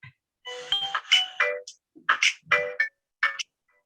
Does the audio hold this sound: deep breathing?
no